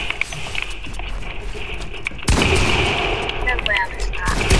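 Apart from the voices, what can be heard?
gunshots in Fortnite video game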